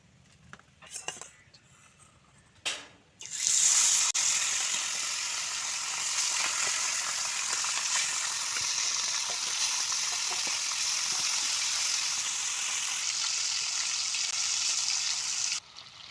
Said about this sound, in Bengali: তো এখন আমি মাছগুলো হালকা ভাবে ভেজে নেব